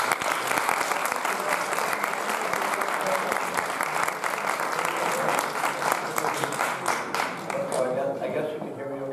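An audience at a university lecture in Crete claps continuously for several seconds before the talk begins, dense and even applause filling the hall, with a voice emerging near the end.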